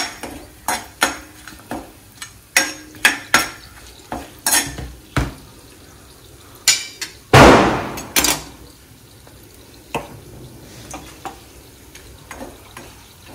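Paneer biryani ingredients frying in a pot, with irregular metallic clanks and scrapes of a ladle being stirred against the vessel and a soft sizzle beneath, fairly close and no talking.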